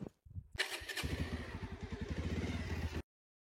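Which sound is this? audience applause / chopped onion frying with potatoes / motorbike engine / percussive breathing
motorbike engine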